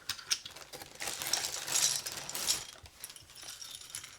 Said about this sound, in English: I'm going to put some ABS keycaps on